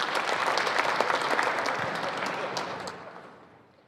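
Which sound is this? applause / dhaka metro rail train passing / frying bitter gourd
applause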